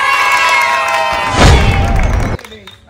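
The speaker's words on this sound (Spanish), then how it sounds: "Un aplauso para Novalgina." Audience at a game show contest bursts into cheering and applause over music, with shouting voices swelling midway and then cutting off abruptly near the end.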